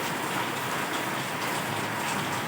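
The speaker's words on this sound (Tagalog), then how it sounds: "Ang lakas lagi ng ulan." Heavy rain pours steadily and loudly throughout, a dense continuous hiss and patter with no pauses, heard while working on a construction job.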